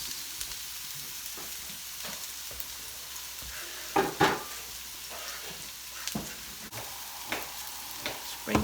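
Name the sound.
red onion frying in a pan for beef stir fry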